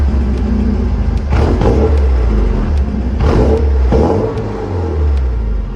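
A Porsche 944 driven on the road, its engine droning steadily with a low rumble and rising revs that swell and ease through repeated accelerations, close and continuous throughout.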